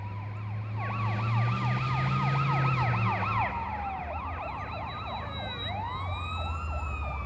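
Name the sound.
emergency vehicle siren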